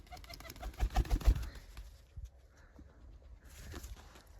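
Newly acquired pigeons coo close by in a few low, throaty bursts, followed by quieter rustling and faint scattered movement.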